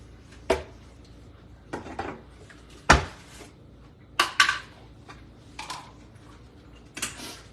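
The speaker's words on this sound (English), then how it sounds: "I'm going to put it in a little bit smaller bowl" Dishes and utensils clink and knock in a quiet kitchen as protein food is moved into a smaller bowl: about eight separate sharp clatters spread irregularly, close and moderately loud, with no talking.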